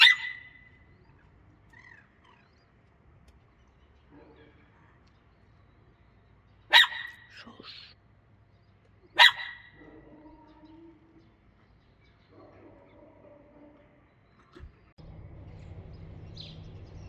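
A dog barks twice, sharp and close, at a Turkey–Iran border crossing, with long quiet gaps and faint background activity in between, and a low rumble near the end.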